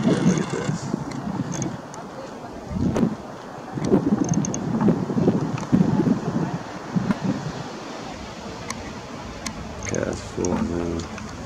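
Strong, gusty wind buffets the microphone outdoors in a roaring, uneven rush that swells and eases, with a person talking intermittently over it.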